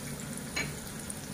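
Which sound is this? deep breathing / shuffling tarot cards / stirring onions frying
stirring onions frying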